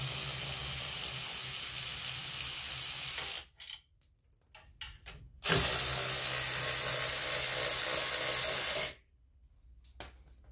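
Loud ratcheting and hissing bursts while 10 mm bolts are removed from the shroud of an Agri Fab leaf vac, two long stretches of mechanical whirring separated by short clicks and pauses, up close.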